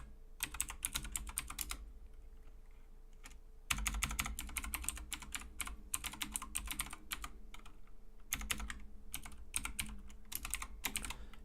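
Rapid bursts of typing on a computer keyboard, with clustered keystrokes broken by short pauses, close and fairly quiet, with no talking.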